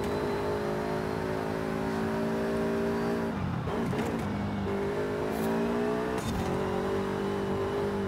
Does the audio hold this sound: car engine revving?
yes